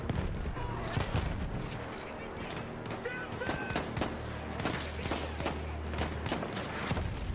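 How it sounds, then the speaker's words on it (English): Dense Battlefield 1 combat: rapid, overlapping gunshots and heavy artillery bursts crackle and thump continuously at high intensity, with close and distant shots layered together. "Taking a lot of fire."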